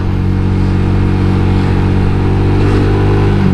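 A replacement motorcycle engine drones loudly and steadily while riding, a strongly vibrating, rumbling note that holds close and constant with no voices.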